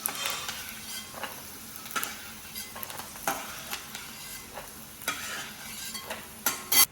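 Fried peanuts lifted out of hot oil with a spoon, a soft continuous sizzle beneath repeated scraping and clinking strokes against the pan, close and fairly quiet.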